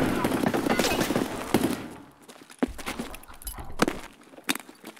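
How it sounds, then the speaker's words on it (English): Gunfire in the shooter game Escape From Tarkov, a dense burst of rapid shots followed by scattered single cracks and clatter, loud and close, with voices talking intermittently. "I'm shooting at him."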